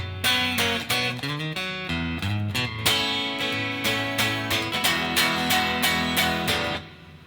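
Guitar playing the last chorus of a song, with full chords struck in a steady, busy rhythm of repeated strums and bass notes, loud and close, alone without talk.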